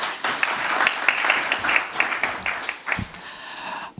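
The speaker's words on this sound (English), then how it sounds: "So another hand of applause for Prof." Applause from an audience at a conference opening ceremony, a steady mass of clapping lasting a few seconds before thinning out and fading near the end.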